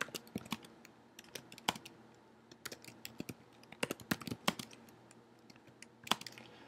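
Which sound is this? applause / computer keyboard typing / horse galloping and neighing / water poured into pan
computer keyboard typing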